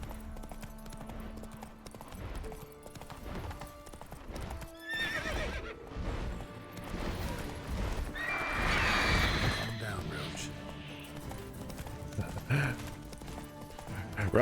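Roach, a horse in The Witcher 3 video game, gallops with rhythmic clip-clopping hooves and whinnies loudly partway through, while someone talks over the game sounds.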